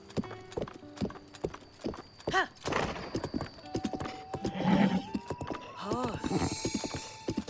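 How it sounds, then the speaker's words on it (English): Steady clip-clop of horse hooves in The Legend of Zelda: Breath of the Wild, with a couple of high whinnies and neighs, plus game-like tones and effects in the background. "Gotta soothe the horse."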